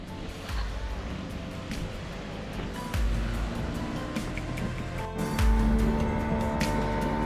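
Small fishing boat powered by a lawnmower engine running out on the sea, a steady rough engine drone mixed with wind and water wash, with surges of splashing as the hull hits waves.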